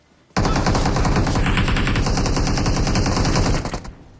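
Sustained automatic gunfire in a battle royale video game, a rapid unbroken burst of loud shots lasting about three seconds before cutting off.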